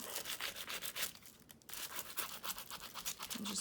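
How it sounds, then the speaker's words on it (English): Dry, rhythmic rubbing strokes as foil is burnished onto a Bible journal page, a steady close scratchy friction with a brief pause midway, no talking. "And just burnish, burnish, burnish, and you'll get frayed edges along the way."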